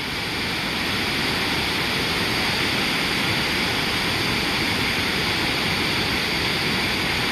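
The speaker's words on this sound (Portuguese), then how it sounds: "Vou acabar de filmar a cascata aí para vocês." A waterfall's continuous roaring rush of falling water, loud and steady, filling the whole scene with dense white noise and no pauses.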